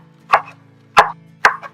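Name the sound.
knife chopping fresh cilantro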